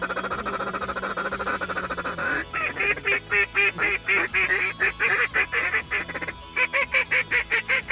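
Canada geese and ducks honking during migration on a hunt, a dense flock calling nearby in rapid repeated honks, loud and choppy, with a low background hum beneath.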